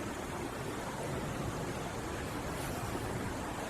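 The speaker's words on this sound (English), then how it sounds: "Creek runs right under this place" Water from a creek flowing beneath an abandoned building makes a steady, dense rushing wash. It holds even and unbroken throughout, with no voices.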